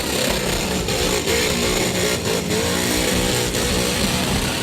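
A car engine roaring loud and constant at high revs through a burnout 360 on a muscle car show, sustained with slight dips in pitch, close and with no talk.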